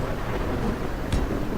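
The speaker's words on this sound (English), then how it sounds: "Gonna have to go and get out of this storm in a second." Thunderstorm weather in the Space Engineers video game, a steady wash of rain and wind noise with a brief thunder crack partway through, loud and continuous with no talking.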